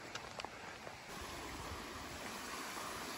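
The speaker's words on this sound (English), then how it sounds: "Just thought I would capture some more of the stream." Steady broadband rush of a flowing mountain stream beside a hiking trail, continuous and fairly close, with a few faint ticks near the start and no voices.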